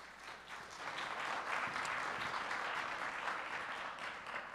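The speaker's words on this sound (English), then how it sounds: "would you welcome him with a round of applause today" An indoor audience gives a round of applause to welcome a guest speaker. The clapping is steady and sustained, faint and somewhat distant, and swells slightly before holding level.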